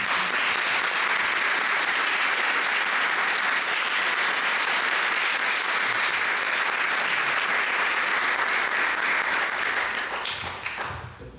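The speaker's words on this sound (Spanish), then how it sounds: "Un aplauso, por favor." A conference audience applauds in a dense, sustained wash of clapping that stays loud and even before tapering away at the very end.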